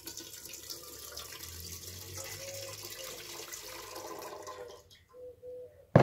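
Water drains from a pot of cherries through a lid punched with holes, a trickling, splashing pour that runs steadily, then thins to a few drips and stops, ending with a sharp clatter.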